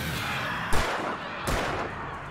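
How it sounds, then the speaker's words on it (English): Two gunshots ring out in Alan Wake Remastered, sharp loud cracks about three-quarters of a second apart, each trailing into a short echoing decay over a low ambient bed. "I don't think I need to be shooting that much"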